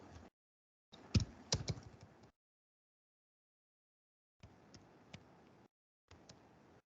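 Fingers type on a computer keyboard in separate short bursts of quick clicks, broken by stretches of silence, close and fairly quiet.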